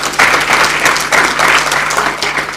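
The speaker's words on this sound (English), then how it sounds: "Can we please give our panelists a round of applause?" Seminar audience applauding panelists at an African economic research policy seminar, steady dense clapping filling the room, fairly loud and continuous for the whole stretch.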